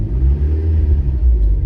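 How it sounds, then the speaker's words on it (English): Forged Mazda Miata engine, hot after a first start, holding a steady low rumble with a slight rise in revs over under two seconds; close and loud, with no talking. "If I rev it"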